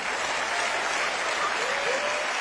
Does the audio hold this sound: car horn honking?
no